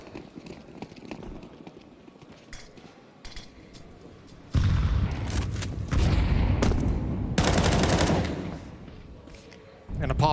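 Rapid bursts of Glock pistol fire crackle through a Counter-Strike pro match at a major tournament, several loud sustained volleys with pauses between, under a caster's excited commentary.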